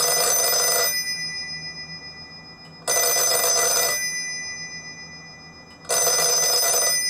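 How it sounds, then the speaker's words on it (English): A Trimphone rings in three loud electronic bursts of about a second each, evenly spaced with quiet gaps between them, alone with no talk. "if you want to hear this thing ring, because that's ringing a British phone there"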